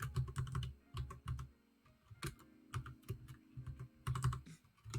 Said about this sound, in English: let me just finish typing first.